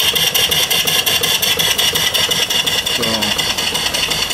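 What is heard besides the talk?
live steam engine with forward and reverse running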